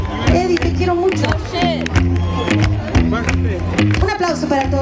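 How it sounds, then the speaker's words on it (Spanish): A concert audience at a show applauds the touring crew. Steady clapping and crowd noise run throughout, mixed with music and sustained tones. "Quiero un aplauso también para todo nuestro crew"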